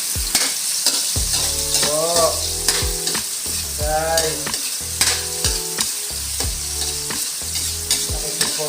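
Pork ribs and tomatoes sautéing in a pan for sinigang, a steady sizzle and fry with repeated stirring scrapes and clinks of a utensil, close and fairly loud, with brief background voices.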